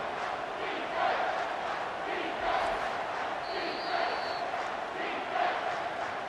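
Home stadium crowd in the College Football 25 video game roars steadily on a 3rd-down defensive stand, a dense sustained cheer with swelling waves throughout.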